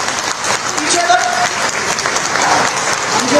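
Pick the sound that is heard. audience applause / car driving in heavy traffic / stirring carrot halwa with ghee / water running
audience applause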